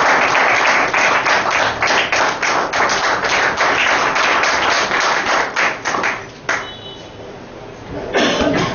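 An audience at a speech craft award event breaks into sustained applause with many crisp, overlapping hand claps. It thins out after several seconds and then briefly picks up again.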